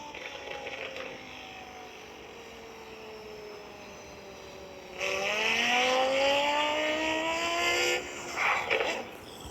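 Car engine in the mobile driving game Car Parking Multiplayer, a steady droning tone that rises sharply in pitch partway through as the car accelerates and revs, then eases off, with no talking.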